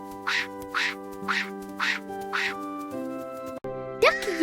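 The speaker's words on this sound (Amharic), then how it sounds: "ዳክዬ ናት።" A duck quacks five times in a steady, evenly spaced run, loud and close, with a sustained musical tone underneath, then a brief jingle and rising tones near the end; no one talks.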